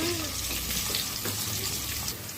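Sliced onions and bay leaf sizzling in hot oil in a pan, a loud continuous close frying hiss with crackle throughout, no talk heard.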